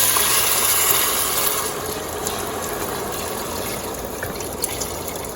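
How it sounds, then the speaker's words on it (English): Broth pours from a container into a cooking pot, a loud continuous gushing splash that eases into a quieter steady trickle and bubbling. "we're going to add our broth."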